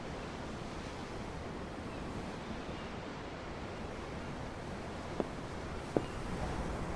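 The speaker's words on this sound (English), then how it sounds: "I'm looking at the ocean. The ocean? Yeah. The waves." Ocean waves in Tales of Arise wash in a steady, broad surf roar with a windy hiss, continuous and moderately quiet, with a couple of faint clicks near the end.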